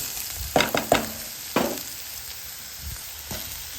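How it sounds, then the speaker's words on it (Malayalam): Chicken spaghetti being stirred in a frying pan gives a steady sizzle, broken by several sharp scraping clacks of the utensil against the pan. No talking. "ഇത് തമ്മിൽ ഒട്ടിപ്പിടിക്കാതെ ഇങ്ങനെ ഇളക്കി വെക്കുന്നത് നന്നാവട്ടോ"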